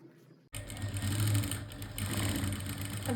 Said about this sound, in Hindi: हम एक सिलाई इस तरह से लगा लेंगे।